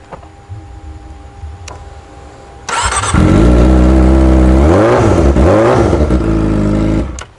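A motorcycle engine fires up after a quiet stretch with faint background noise, then revs loudly up and down several times close by before dropping off at the end.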